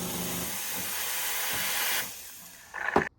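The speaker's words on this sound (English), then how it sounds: "It takes around 40 seconds to steam a jug." A steady, fairly quiet hiss comes from the steam wand of a Gemilai espresso machine steaming a jug of milk. It thins toward the end before a short gurgling burst.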